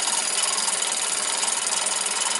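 A Meccano model locomotive geared 18:1 runs on a bench rolling road, giving a steady, even mechanical whirr with a fine fast rattle, close and constant for a couple of seconds.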